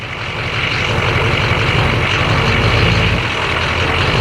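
A 2004 GMC 3500 Duramax diesel truck engine roars loudly and steadily close by, a dense low rumble that holds its level with no clear rise or fall in pitch.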